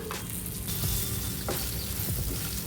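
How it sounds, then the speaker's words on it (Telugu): Spiced stuffed okra frying in a pan with ajwain and asafoetida, a steady close sizzle with occasional stirring scrapes throughout, no talk. "ఇప్పుడు మసాలా పెట్టుకున్న బెండకాయలు వేసుకొని బాగా ఫ్రై చేసుకోవాలి"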